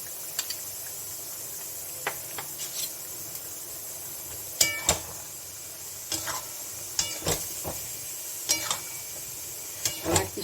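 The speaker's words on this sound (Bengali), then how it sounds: "ওই যে অল্প করে আমি একটু ঘি দিয়ে দিচ্ছি" Ghee and a fried spice mix go into a pan of shukto, a Bengali mixed-vegetable dish. A soft, steady sizzle runs underneath while a spoon scrapes and clinks against the pot at scattered moments.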